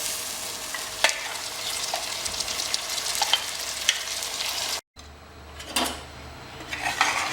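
Marinated mutton frying with onions in a pan gives a steady, close sizzle with scraping stirs, a brief cut-out near the middle, then sizzling resumes.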